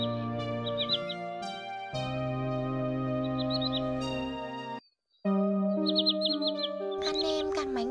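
Common greenshank, the white-bellied shorebird, gives repeated clusters of quick high chirps in several short bursts, heard over steady sustained musical tones, as in a night bird-netting lure recording.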